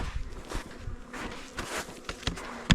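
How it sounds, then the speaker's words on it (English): Honeybees buzz around opened winter hives on a mild day, a close, wavering drone with brief louder passes and some shuffling steps and handling noises, no one speaking. "we haven't gotten to open hives and have them buzzing around us"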